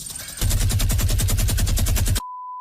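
Rapid machine gun fire in the Choo Choo Charles video game, a loud close burst of evenly spaced shots lasting nearly two seconds, ending abruptly and followed by a thin steady tone.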